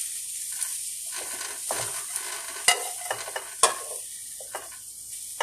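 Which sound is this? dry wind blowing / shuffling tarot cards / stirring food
stirring food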